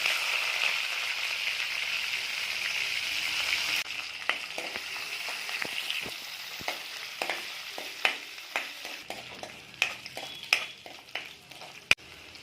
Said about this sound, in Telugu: ముందుగా నెత్తలు వేపుకుందాం.